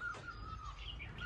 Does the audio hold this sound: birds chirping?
yes